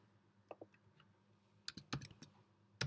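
Computer keyboard typing in a quiet room, a few scattered soft key taps followed by a quicker burst of sharper clicks, close and clear with no talking.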